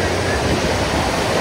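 Ocean surf at Baga Beach in North Goa during the monsoon, a loud, continuous wash of crashing waves and wind, steady throughout with no clear talk.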